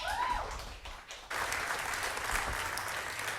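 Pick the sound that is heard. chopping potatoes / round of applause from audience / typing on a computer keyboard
round of applause from audience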